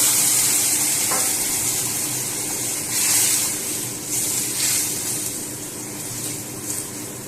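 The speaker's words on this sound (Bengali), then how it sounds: "এর মধ্যে এবার ভেজে রাখা মাছগুলো আমি বসিয়ে দিচ্ছি একে একে" Pieces of pre-fried fish sizzle steadily in a pan of cooked-down spiced gravy, a continuous close frying hiss with faint clinks of utensils and no talk.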